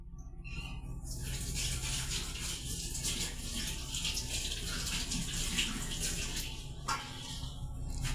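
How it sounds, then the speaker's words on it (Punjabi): Tap water runs steadily over a plate being washed clean of yellow stains, with a constant splashing flow close by and a brief clink near the end. "ਆਪਾਂ ਤੁਹਾਨੂੰ ਹੁਣੇ ਪਲੇਟ ਧੋ ਕੇ ਦਿਖਾਉਨੇ ਆ"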